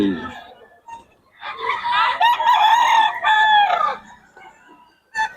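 A rooster crows loudly and close by at a bird market in Bocaue. The long crow is followed by some clucking, with brief bursts of other sound at the start and the end.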